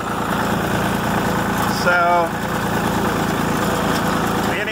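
A tractor engine runs steadily while it flips windrowed hay bottom side up to dry, a constant mid-pitched drone with a brief rise partway through, and someone speaks a word over it.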